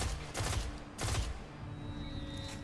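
Gunfire from the video game Destiny: Rise of Iron, two dense bursts of rapid shots close together, fading to a quieter ambient tail.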